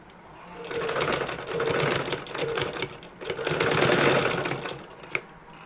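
A sewing machine stitches a kids' frock nighty in several whirring bursts of a second or so each, fairly close and steady, with short pauses between runs and a small click near the end.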